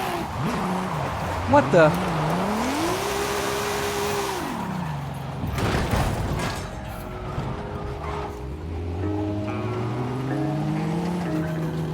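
A car drifting through the streets in the video game Forza Horizon 5, with a rising and falling engine whine and long tire squeals over steady road noise, while a person briefly speaks.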